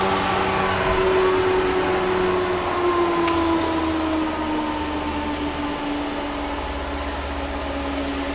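An industrial dust vacuum runs on a large machine, a steady loud drone with whining tones that slowly drift lower, continuing unbroken throughout.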